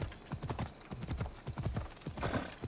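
A horse galloping in the video game Assassin's Creed Odyssey, a fast, continuous drumming of hoofbeats, loud and close, with faint game sounds around it and no talk over it.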